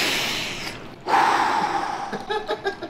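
Someone takes a first ice bath: a long hissing exhale gives way to a sudden sharp, loud gasp, then shaky, uneven breaths in quick pulses, all close by.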